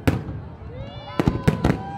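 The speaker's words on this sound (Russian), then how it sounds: "завершился праздник красочным фейерверком" Fireworks at a celebration marking the birthday of the city of Kyzyl pop and crackle in a series of sharp bursts, with whistling trails rising between them and voices heard faintly underneath.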